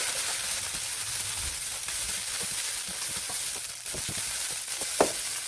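Partially cooked rice tipped into a hot frying pan for a butternut squash risotto, producing a dense, continuous hiss of sizzling oil with light scraping and stirring taps, close and steady, no talk.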